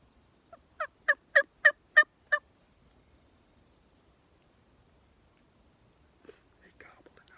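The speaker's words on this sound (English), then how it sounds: "He gobbled and I answered him." A wild turkey gobbles in a crisp, rapid rattling burst from some distance, followed after a pause by a faint, short yelp on a hunter's call and quiet whispering nearby.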